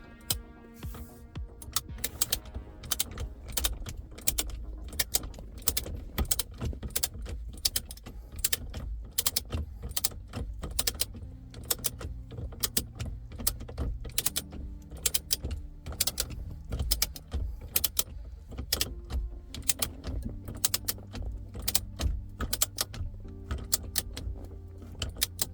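A torque wrench clicks and ratchets on a Nardi steering wheel with an NRG quick release in a Datsun 280ZX, making a rapid, irregular series of sharp metallic ticks and clatters close by for about 25 seconds.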